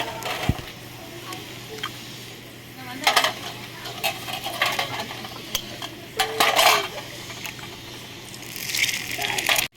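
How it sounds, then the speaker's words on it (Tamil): Beaten eggs being stirred and sautéed in a pan for village-style egg podimas, with repeated metal spatula scrapes and clinks over a low sizzle, busier in bursts, no talking. "முட்டை அடிச்சு ஊத்தியாச்சு நல்லா இப்படி வதக்கிக்கோங்க"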